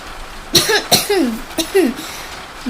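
A narrator voices a man's rough coughing fit after five or six pulls on a hookah, delivering a few sharp, throaty coughs in uneven bursts, close and clear.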